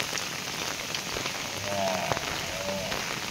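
Rain falls steadily on surfaces nearby, a dense, even patter and hiss that carries on throughout, with a few faint tonal sounds in the background.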